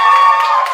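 A stand-up comedy club crowd in Pittsburgh clapping and cheering in a short, loud, dense burst, with a high tonal hum underneath.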